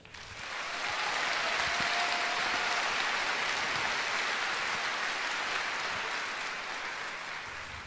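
Dense, steady applause from a fashion show audience swells up within the first second and holds as a broad, even roar of clapping before easing slightly toward the end.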